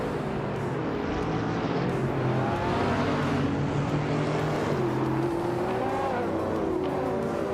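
Racing cars surge off the start at the Autodromo de Francia Corta short track in a video game, a dense continuous roar of multiple engines with rising revs, loud and close.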